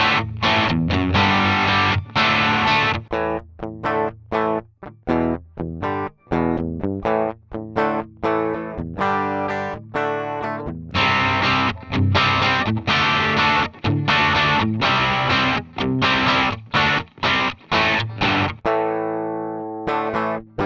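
Heavily distorted electric guitar plays chugging riffs and sustained chords, loud and dense, with sharp stops between phrases and a ringing chord fading at the end.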